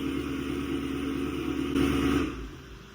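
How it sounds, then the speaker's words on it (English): In a Chevy Camaro V8 engine bay, a steady whir and hum swells briefly, then the radiator cooling fan winds down and fades, leaving a quieter background hum. "that sound you just heard right there is the fan turning off"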